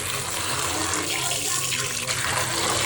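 Tap water runs loudly and steadily into a sink while potatoes are washed in a village kitchen, a continuous close splashing hiss with no pauses and no talking.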